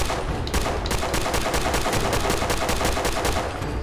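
Rapid automatic Kalashnikov rifle fire in Fallout 4, a dense, loud, sustained burst of closely spaced shots running the whole time with no talk over it.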